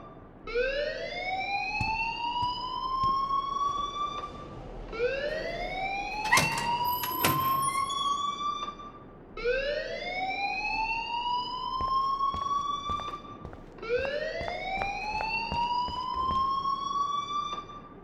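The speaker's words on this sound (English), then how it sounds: "please turn off that alarm since that's your job" A fire alarm in the video game Life is Strange gives a loud, steady run of rising whooping sweeps, four cycles in a row, with a brief sharper electronic tone layered over the second.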